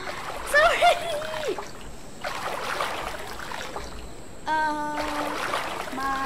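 A boat glides through water in the Roblox game Royale High, with splashing and trickling water sounds and bright chiming game effects layered over it at moderate loudness.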